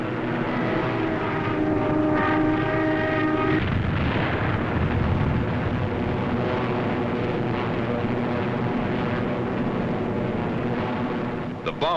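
A formation of WWII fighter planes reforms and climbs, their propeller engines roaring loud and continuous throughout with a dense, rumbling drone.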